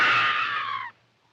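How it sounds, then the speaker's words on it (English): A woman's long, high-pitched scream from the film King Kong, loud and sustained for nearly a second before cutting off abruptly into near silence. "And you can't get a much better scream than this."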